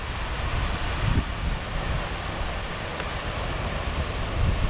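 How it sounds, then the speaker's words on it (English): Water pouring over a man-made dam in the woods, a steady dense rushing roar that stays constant throughout, fairly loud and without other sounds standing out. "Gotta love a nice waterfall or a dam."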